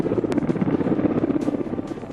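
A military helicopter maneuvers overhead near a forward post at 13,800 feet, its rotor thudding in a rapid, steady pulse, loud and close, with no voices.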